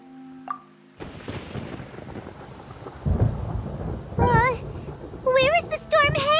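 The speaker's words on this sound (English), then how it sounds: "Where is the storm headed?" Rolling thunder and steady rain from a storm in the video game Genshin Impact, a low rumble building through the clip, with character voices speaking over it.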